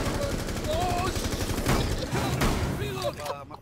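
Rapid bursts of automatic gunfire in Rainbow Six Siege crackle through the scene, close and loud, while a player talks over the shooting.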